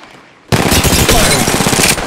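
Loud automatic gunfire erupts in Apex Legends Mobile after a short quiet lead-in, a dense rapid burst of shots that continues unbroken for over a second and a half, close and harsh.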